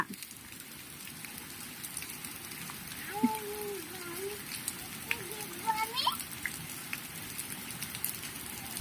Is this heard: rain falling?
yes